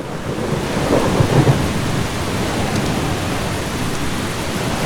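Thunderstorm with steady heavy rain in the video game Eastshade, a dense broadband roar with a low rumble of thunder swelling early on, no talk.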